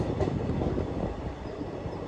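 The Vishwamanava Express (17326) running, a steady low rumble of rolling rail cars with faint clatter, continuous and moderately loud without speech.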